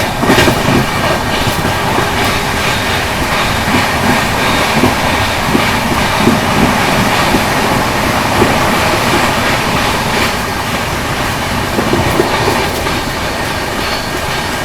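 Paschim Express passenger train running through Bilimora Junction without stopping, a steady loud rumble of the moving carriages with faint wheel clatter and occasional squeal throughout.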